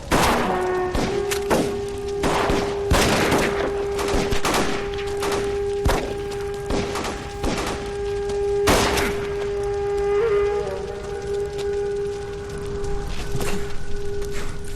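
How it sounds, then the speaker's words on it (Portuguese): A gunfight in the video game L.A. Noire: scattered shots and heavy thuds land at irregular intervals over a sustained musical drone, with a few louder blasts standing out. "Me deu um tiro no Phelps."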